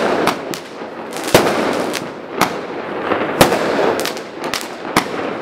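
Chinese New Year fireworks on a boardwalk outside an apartment bang repeatedly at irregular intervals, loud sharp cracks over a continuous crackle and rumble, with no voices.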